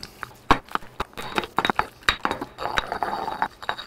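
Guacamole with lime juice gets mixed in a mortar: a quick run of sharp knocks, clinks and soft squishes from the pestle, close and irregular, with no talking.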